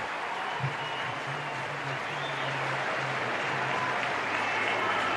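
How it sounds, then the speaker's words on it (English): A large baseball stadium crowd applauds steadily, a broad wash of clapping and cheering that holds without a break, heard from a distance. "listen to the crowd as he walks away"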